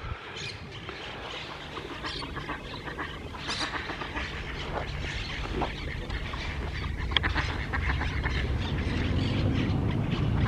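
Ducks in a park quack in a busy, overlapping chorus, close and steady, with a low rumble of background noise underneath.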